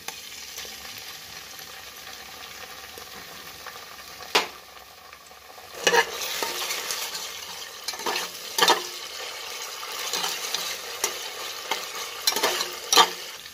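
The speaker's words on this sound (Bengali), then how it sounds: "আদা রসুন ভাজা হতেই দইয়ের সঙ্গে যেটা ছিল এটা দিয়ে দিলাম মশলাটা।" Ginger-garlic paste fries in a pan while being stirred, a continuous sizzle with repeated scraping strokes and louder bursts of spattering every second or two, no talk.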